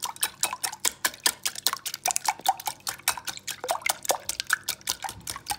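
A utensil beats lemon zest into egg yolks in a bowl, making rapid, rhythmic wet clicks and taps. The whisking is continuous, close and fairly loud.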